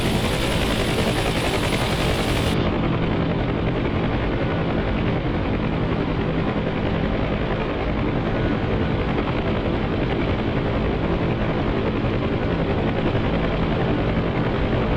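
A helicopter rotor in the flight simulator game DCS drones continuously, a loud steady thrumming that holds unchanged with no other sounds.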